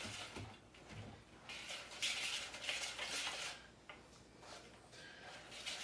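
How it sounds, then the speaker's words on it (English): Egg white being whisked in a bowl for s'mores bars, with soft, faint clinks and scraping strokes that come in uneven bursts. "We're just going to take your whisk, whisk that in pretty good."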